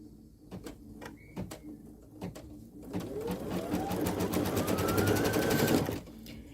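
An embroidery machine stitches a placement marking on fabric, starting with a few separate clicks and thumps, then a fast, steady needle rattle with a rising motor whine, close and moderately quiet, stopping abruptly.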